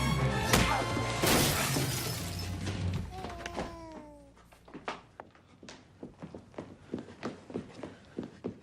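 Glass shatters loudly as a person crashes into a glass table in a movie musical scene. Heavy debris clatters at first, then hurried thudding footsteps follow, fading down to scattered steps and small tinkling pieces.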